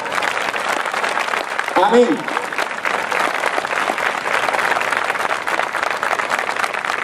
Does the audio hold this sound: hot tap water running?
no